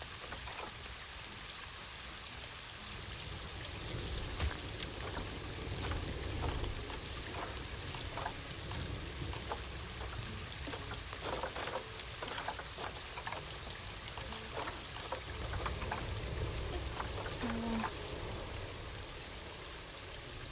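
Steady rain from the video game Planet Zoo, a constant broadband hiss of falling drops with scattered sharper patters, holding even and moderately loud for the whole stretch with no talking.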